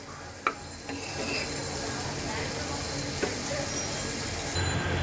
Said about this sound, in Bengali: পেঁয়াজটাকে আমি এখন সুন্দর মতন কষাই